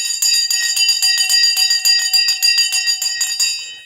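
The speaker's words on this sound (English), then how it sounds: "The bell has gone." Stock market closing bell on a Friday evening, rung rapidly and loudly for nearly four seconds as a bright, metallic clanging that fades slightly at the end, with no talk over it.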